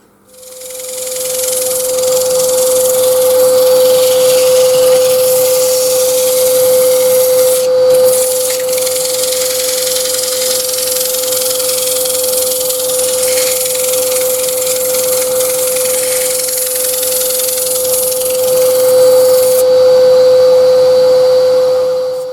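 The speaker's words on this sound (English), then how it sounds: "Oh, now the fun bit of sanding." A power sander works over a live edge wooden bowl that still has its bark and chainsaw marks, giving a loud, steady motor whine with a constant hum under the gritty hiss of sanding for over twenty seconds.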